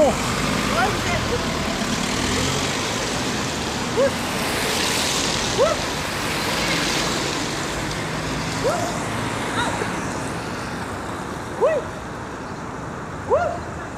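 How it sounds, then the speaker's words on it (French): Traffic on a road near the ring road, a steady wash of car and truck noise with occasional louder passes and brief higher tones cutting through, with people talking nearby. "Attention les voitures là."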